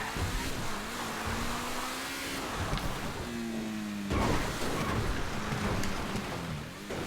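A damaged car races in GTA 5, its engine droning and shifting pitch as it accelerates, loud and close, with rain-like hiss and road noise around it and a sharp jolt partway through.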